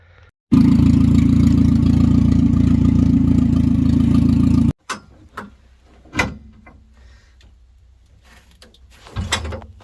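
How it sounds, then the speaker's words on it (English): A 1999 Dodge Neon R/T racecar engine runs loud and steady for about four seconds, then cuts off abruptly and leaves a few faint knocks and thumps. "Time to pack it up and have Maggie start driving it around a bit."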